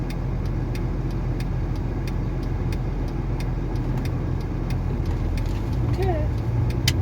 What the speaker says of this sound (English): Where is all this traffic coming from?